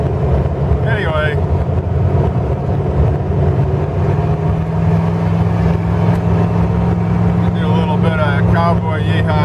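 A car drives along a gravel road in Dakota, its engine hum and tyre rumble steady and close inside the cabin, with occasional gravel crackle throughout.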